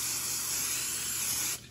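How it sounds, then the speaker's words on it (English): Cooking spray hisses steadily from an aerosol can onto the bottom of an 8x8 baking pan for a peach crisp, one continuous close burst that cuts off abruptly near the end. "We're going to spray the bottom of an 8x8 pan."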